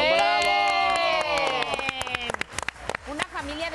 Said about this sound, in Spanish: vamos a dar un aplauso a don Eric